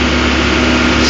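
Caterpillar 12G motor grader diesel engine held at a steady, loud drone with hand throttle raised, climbing a paved mountain road; constant low hum without talk.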